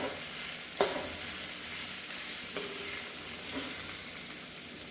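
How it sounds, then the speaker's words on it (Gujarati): Grated cabbage stirred and sautéed in a hot pan, a steady close sizzle throughout with a few sharp scraping clicks of the spoon against the pan. "કોબી નાખીશું અને બરોબર રીતે મિક્સ કરી દઈશું"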